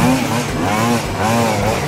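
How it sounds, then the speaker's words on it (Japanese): A 2020 Beta RR250 enduro motorcycle grinds along a difficult trail course, its engine held at a steady mid-rev drone with the rider paddling through, close and loud throughout. "上岡さんまた難しいコース行ってますけど上手に足をついてオートバイを前に進めていきます"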